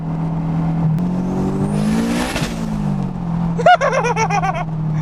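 A 500 hp turbocharged 2003 Honda S2000 AP1 drones steadily, then a turbo whistle rises and flutters off, followed by a rapid chattering wastegate burble as the revs swing.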